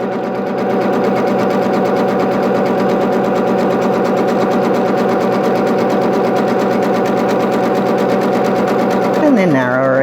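Sewing machine running steadily while sewing a zigzag stitch for appliqué as the stitch width changes, a loud, close, continuous rapid whirring hum that shifts pitch near the end.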